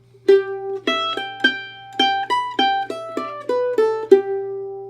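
A short mandolin melody phrase with quick notes and a hammer-on triplet flourish, resolving to a ringing sustained G, played close with no talking.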